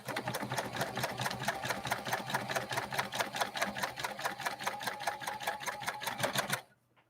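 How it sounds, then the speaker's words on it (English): A New Home 2022 sewing machine straight-stitches slowly through four layers of denim, a steady rapid mechanical clatter running continuously and close, then stopping abruptly near the end. "this model 2022 going through these 4 layers of denim"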